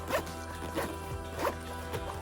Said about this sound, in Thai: พับเก็บแล้วก็รูดซิป